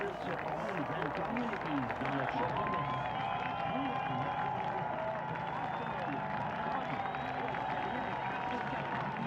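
Montreal hometown crowd cheering and applauding Jacques Villeneuve's qualifying run at a NASCAR Nationwide Series race, a steady, dense roar throughout with a voice talking over it.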